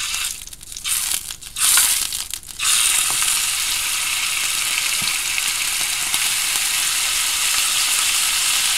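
Breakfast frying in a pan on a stovetop, a steady loud sizzle that swells and holds after a few seconds of crackling and stirring near the start, with no talking.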